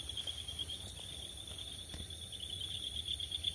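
Ryukyu Kajika frogs calling in breeding season, a steady high-pitched trilling chorus that runs without pause at low level, with no voices.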